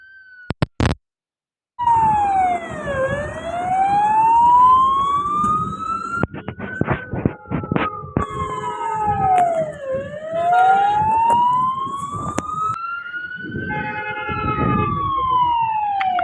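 An ambulance siren wails in long rising and falling sweeps, loud and close, over the rumble of slow, jammed road traffic in rain near Mansehra toll plaza, with occasional horn blasts.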